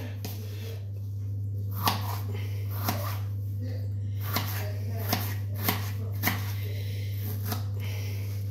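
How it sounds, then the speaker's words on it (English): Knife chopping a bell pepper on a cutting board, soft evenly spaced cuts roughly once a second over a steady low electrical hum in a kitchen. "I'm going to cut the other half of my pepper now"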